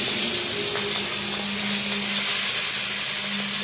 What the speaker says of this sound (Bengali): তেলটা ভালো করে গরম হলে এই চিংড়ি মাছগুলো ভেজে আমি চিংড়ি মাছগুলো ভেজে নিচ্ছি